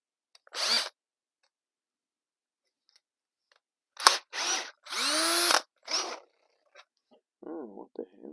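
A cordless drill gives several short bursts of whirring, close by, separated by pauses, with a brief voice near the end, while relocating a Mitsubishi Eclipse's battery.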